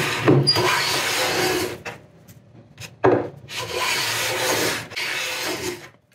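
A Melbourne Tool Company block plane shaves blackbutt hardwood in several close, long rasping strokes separated by short pauses, each pass a dry scraping hiss.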